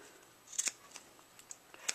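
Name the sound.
scissors cutting hair bow ribbon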